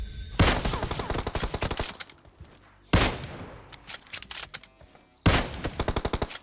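Gunfire in a mobile shooting game comes as three separate loud, sharp bursts spaced a couple of seconds apart, each trailing off in an echoing, crackling decay, with no talking.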